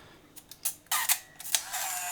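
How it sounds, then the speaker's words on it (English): Nikon L35AF compact film camera under repair for a stuck shutter, firing several times: quiet sharp mechanical clicks and whirring bursts spread across about two seconds, close up with no talking. "Okay, now I've seen the shutter work."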